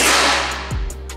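A single sharp shot from a Ghost Warrior V2 air rifle cracks at the start, followed by a short fading tail and a few faint ticks afterward.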